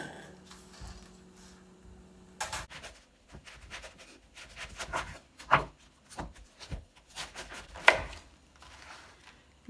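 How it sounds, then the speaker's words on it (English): A knife chopping a cabbage on a cutting board in a home kitchen, giving a series of irregular crisp thuds and cuts, some louder strokes standing out, with faint background hum and no talking. "now I'm going to cut up my cabbage"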